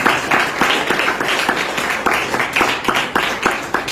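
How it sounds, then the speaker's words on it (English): A crowd of college students applauds throughout a lecture hall at a political address, a dense, steady wash of many hands clapping with sharper individual claps standing out, fairly loud and close. "اس پہ بھی تالیاں بجتی ہیں"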